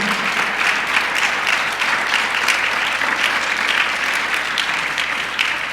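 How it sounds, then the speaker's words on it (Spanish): Dense, steady applause from a church congregation at Zoe Iglesia fills the room evenly throughout, loud and sustained with no pauses. "Dale un aplauso al Señor por ello."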